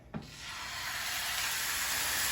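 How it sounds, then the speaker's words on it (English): A beef roast hits a hot pan with a brief thump, then a steady, fairly quiet hiss of searing continues unbroken. "you want to hear it sizzle a little bit"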